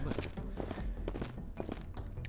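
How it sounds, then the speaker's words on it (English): Footsteps in the Library of Ruina video game thud along in a steady walking rhythm, moderately loud and blended with game background sounds, with no clear talking over them. "their footsteps are getting closer"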